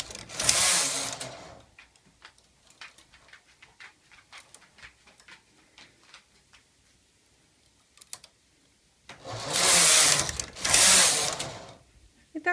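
Knitting machine carriage drawn across a row while knitting the back panel of a boho tunic, heard as a loud rushing sweep at the start and two loud passes near the end, with quieter clicking and handling in between.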